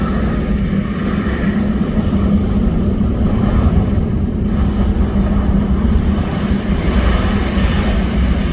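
A Twin Otter light aircraft, in Hebridean Airways colours, sounds at Leeds Bradford Airport as a steady, loud propeller-engine drone that swells slightly near the end, with no voices.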